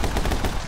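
A single loud, close gunshot fired in the action game My Friend Pedro, a punchy burst with a short rattling decay and no voice over it.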